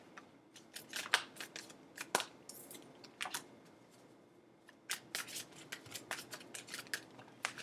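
Tarot cards are shuffled by hand in a quiet room, giving a series of short, crisp riffling and snapping bursts at an irregular rhythm, close and fairly soft.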